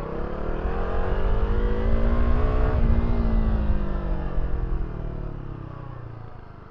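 A Bajaj Dominar 400 motorcycle engine roars loudly during an engine braking test, the pitch climbing as it revs, then falling away and fading as the bike slows.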